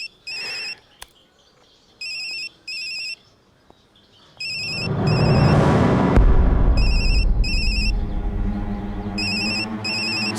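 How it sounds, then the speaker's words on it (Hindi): Mobile phone ringtone playing in short repeated electronic bursts, followed by a loud swelling whoosh of noise that carries on under further ringtone bursts. "आपका फोन बज रहा है, उठाएंगे नहीं?"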